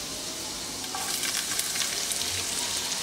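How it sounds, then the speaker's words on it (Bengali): Chopped onion drops into hot oil and fries with a steady crackling sizzle that grows louder partway through, made while preparing dal puri; no one speaks. "এখন দিয়ে দিচ্ছি পেঁয়াজ কুচি।"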